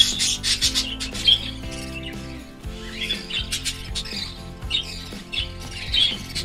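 An English budgie at a nest box gives repeated harsh squawks and chirps, close and fairly loud. The calls come in short bursts over a backdrop of layered chatter from other birds.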